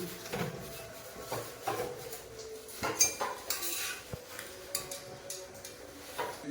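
A metal kadai being set down on a home kitchen stove while cooking vermicelli, giving several light clanks and clatters of cookware with no talk.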